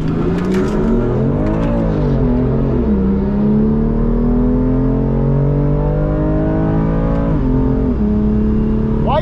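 A BMW M2 Competition accelerates hard in a drag race, its engine roaring loud and close from inside the cabin, rising in pitch through the gears with a clear shift break near the end.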